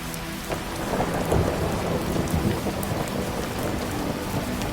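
Gentle, steady rain falling on surfaces, soft and continuous, with low rumbles of distant thunder rolling underneath and no voices.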